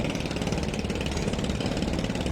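Deep, steady diesel drone with a faint rhythmic knock from the engine of MV Tipu 13, a luxury four-storey passenger launch on the Dhaka–Charfasson route, pulling away from Sadarghat terminal, heard close and continuous with no talk.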